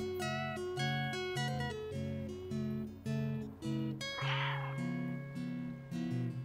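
A cat in the video game Stray meows several times over a melodic, rhythmic in-game music tune, clear and close with no talking.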